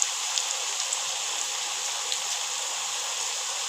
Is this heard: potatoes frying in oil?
yes